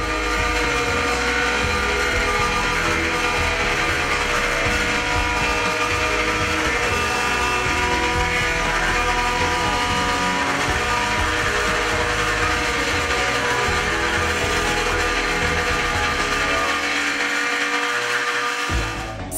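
A V-Max plate bevelling machine's motor runs steadily while it bevels a steel plate, a loud continuous mechanical whir and grind that holds alone for the whole stretch before cutting off at the end.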